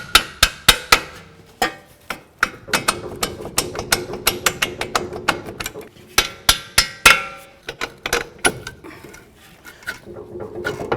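A hammer taps out the knuckle-to-strut mounting bolts on a 2012-17 Toyota Camry front strut, making sharp, close metallic strikes in quick irregular bursts that continue steadily throughout.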